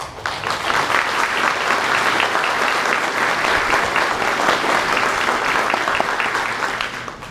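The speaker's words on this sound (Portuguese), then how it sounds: "Então gostaria de receber uma salva de palmas do nosso companheiro Arthur." Sustained, full applause from an audience at an evening lecture event, welcoming a speaker named Arthur; dense clapping swells quickly and holds steady for about seven seconds before tapering at the end.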